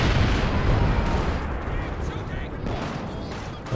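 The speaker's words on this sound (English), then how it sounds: "Base howitzers do force a reposition." Base howitzer artillery fire in the Company of Heroes 2 video game, heard as a dense, continuous wash of booming blasts and rumbling impacts that stays loud throughout, with no pauses between shots.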